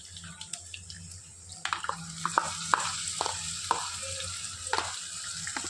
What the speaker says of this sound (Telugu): ఈ పేస్ట్ నూనెలో బాగా వేగాలండి